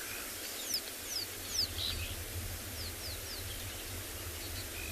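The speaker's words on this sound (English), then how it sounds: "A little bit late for the dawn chorus, but there's quite a few birds calling." Scattered bird calls and quick chirps ring out in the early morning on a Kalahari safari, distant and fairly faint against a constant windy hiss, with no one speaking.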